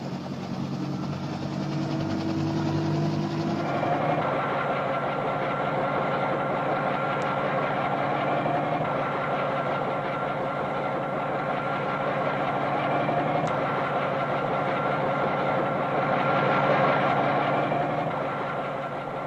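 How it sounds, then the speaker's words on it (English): President Kennedy's helicopter in early-1960s archival footage, a steady loud droning engine and rotor hum that holds continuously throughout with little change. "aboard President Kennedy's helicopter to the airport"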